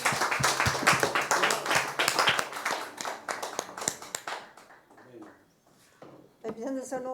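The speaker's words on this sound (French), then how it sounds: "Et on l'applaudit très fort." Audience clapping at a church gathering in France, loud at first and fading out over several seconds, followed by a short burst of singing or speech at the end.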